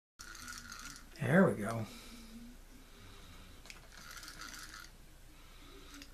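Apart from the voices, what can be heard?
Norseman 110 spincast fishing reel mechanism turning during service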